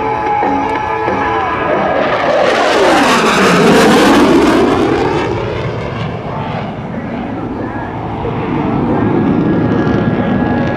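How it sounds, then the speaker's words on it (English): An F/A-18C Hornet jet performs a carrier break during an airshow demonstration, its loud engine roar swelling as it passes close, then fading into a distant rumble while an announcer talks over it. "From the left, the A-18 Hornet's carrier brake."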